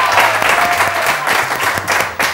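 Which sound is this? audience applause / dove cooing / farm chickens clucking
audience applause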